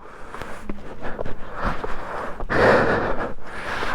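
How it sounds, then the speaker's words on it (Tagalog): Heavy, ragged panting from someone hiking uphill on a hill trail, with close breathy gasps and snorts coming in uneven bursts, loudest near the middle. "Hinihingal talaga ako eh."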